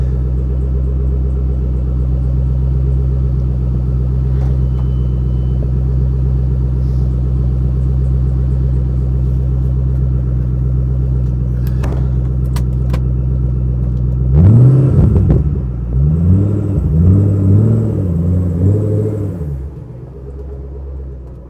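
A car pulls out of a garage on a warm day: a steady low idle rumble holds for long stretches, then the engine revs and rises in pitch in a few surges as it moves off, loud and close, with no talk.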